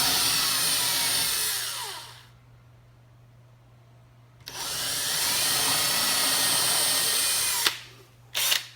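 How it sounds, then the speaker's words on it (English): A power drill with a small bit pre-drills screw holes for Euro cabinet door hinges, whining in two long bursts separated by a pause, then two short revs at the end. "I'm just going to go ahead and use a smaller bit and pre-drill those holes."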